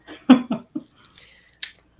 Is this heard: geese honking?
no